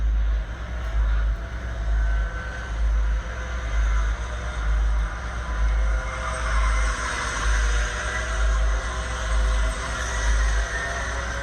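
Micromax racing karts in a championship final heat at a Florida winter tour track, engines droning steadily with a pulsing, rhythmic buzz as the pack runs toward a turn, loud and continuous with no talk.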